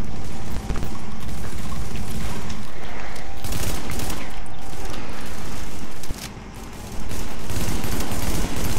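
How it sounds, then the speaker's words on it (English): Sustained loud gunfire in Tom Clancy's The Division, aimed at a petrol bottle in a subway morgue, rattling almost without pause, with a brief lull near the end before the shooting resumes. "We need to shoot that petrol bottle"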